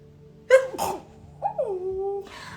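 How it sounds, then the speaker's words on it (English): A single loud, sharp sneeze bursts out after a quick breath, followed by a softer voiced exhale and a brief sniff. "Oh, I'm gonna sneeze."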